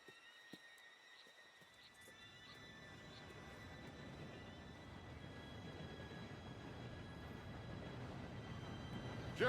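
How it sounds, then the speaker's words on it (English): Train arriving in Red Dead Redemption 2: a low rumble that builds steadily from faint to loud over about ten seconds, with a steady high whine and brief clanks and hoof-like knocks early on. "Train should be here any minute now."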